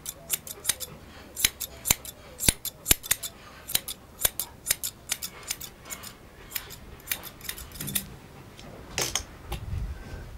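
Scissors trimming the coat around an animal's hock, a steady run of crisp, close snips in uneven rhythm, some quick doubles, with soft handling rustle toward the end.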